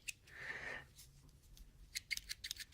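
Scissors on a Schrade ST11 Tough Tool multi-tool being handled: a soft rasping stroke, then a quick run of small crisp metallic clicks and snips, close and quiet, with no talking.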